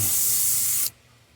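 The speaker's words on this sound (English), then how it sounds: "Make sure it's still spraying right." A steady, loud spray gun hiss while custom painting a popper fishing lure runs for almost a second, then cuts off abruptly, leaving a quiet room.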